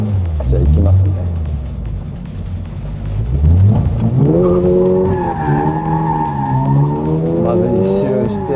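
A car drifts with squealing tires and a revving engine as a drifting technique is demonstrated. Engine pitch rises and falls through the slide while the tire screech grows louder in the second half, heard close up from inside the car with people talking over it.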